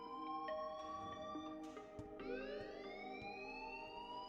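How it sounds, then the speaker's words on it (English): An alarm rings inside the video game Life is Strange, a set of bright electronic tones that wail and slide in pitch on top of one another, moderately loud, with a few short clicks and no voices. "please turn off that alarm since that's your job"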